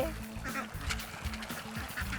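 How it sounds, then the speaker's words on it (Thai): Laying ducks quack repeatedly while swimming together across a farm pond, their calls close and fairly loud over a low, steady background rumble. "น้องเป็ดว่ายกันมาเป็นสายเลยค่ะ"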